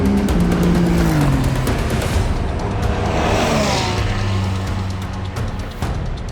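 Porsche GT3 race car on the Nordschleife circuit running Dunlop test tires, a loud close engine roar with rising and falling gear sweeps and a fading pass near the end.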